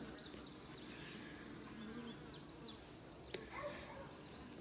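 Honey bees from a small hive colony drone in a steady, close buzz, with individual bees whining past now and then and one sharp tap near the end.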